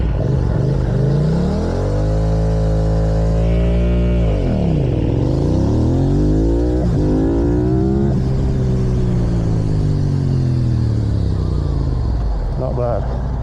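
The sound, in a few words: Yamaha R7 motorcycle race start launch practice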